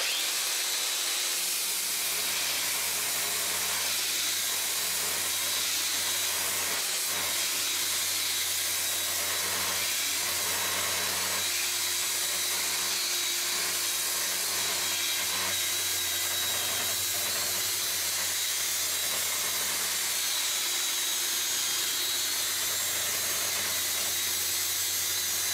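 An angle grinder fitted with a sanding belt runs steadily throughout, a continuous hissing, abrasive grind with a low motor hum and no pauses.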